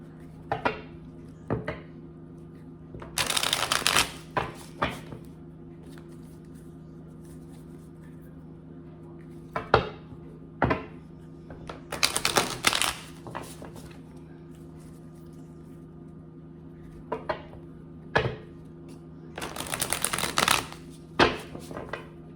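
Tarot cards being shuffled in several short riffling bursts, close and moderately loud, separated by quieter gaps with a steady low hum underneath.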